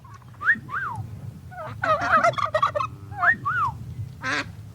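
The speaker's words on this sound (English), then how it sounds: "he hears a turkey all the time gobbling" Wild turkey gobbling in a rattling burst, mixed with shorter yelping calls repeated several times, fairly close and clear over a low background hum.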